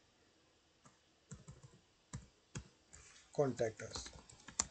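Clicks of typing on a computer keyboard while entering contact details into a WordPress.com post, a few scattered keystrokes and short bursts under a person speaking.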